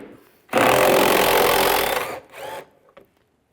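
A power driver with a T30 socket removes screws from a 1998-2010 Volkswagen Beetle during A/C condenser work, making one loud sustained whir of about a second and a half, then a shorter burst and a faint click.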